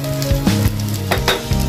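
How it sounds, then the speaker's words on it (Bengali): Thickly cut onions frying in a pan, a loud close sizzle with quick stirring strokes and scraping clatter over a short stretch. "এগুলো একটু ভালোভাবে ভেজে নেব"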